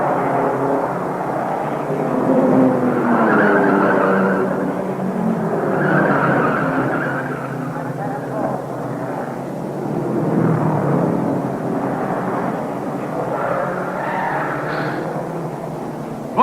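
A 1952 Indianapolis 500 race car skids and loses control after its steering gear fails, sliding toward the wall. The tire squeal and engine roar are loud and continuous for about sixteen seconds, with a sharp burst at the very end.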